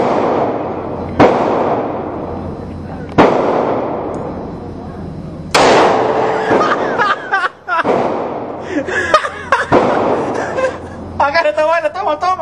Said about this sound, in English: Keep shooting. You keep hitting the trigger.